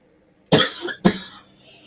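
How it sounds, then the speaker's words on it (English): Two quick, close coughs in succession, the second slightly softer and trailing off. "I'm sorry, I'm coughing away here."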